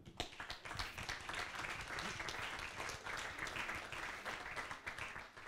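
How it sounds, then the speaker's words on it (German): Audience applause for a speaker at a talk on copyright, a dense, even patter of clapping from a crowd that holds steady throughout. "Einen Applaus bitte für Julian."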